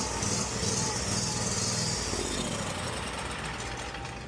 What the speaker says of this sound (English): I'm gonna just spin it over and let it pump some fuel.